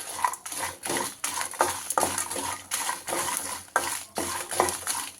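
Dried red chillies sizzle and fry in oil in a pan while a utensil repeatedly scrapes and stirs, giving steady crackling broken by regular clinking strokes, close and fairly loud with no talking.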